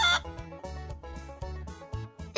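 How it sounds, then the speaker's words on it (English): A chicken on a farm clucks in a series of short, rhythmic bursts over a low steady background, close and clear, with no talking. "This is a chicken."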